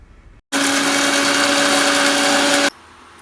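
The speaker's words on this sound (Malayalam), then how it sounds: "നമുക്കിനി മിക്സി ജാറിലേക്കിട്ട് നന്നായി പൊടിച്ചെടുക്കാം." Mixer grinder powdering dry-roasted mutton masala spices, a loud, steady high-pitched whir starting abruptly and running for about two seconds before cutting off.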